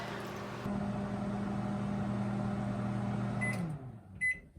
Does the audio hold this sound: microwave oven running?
yes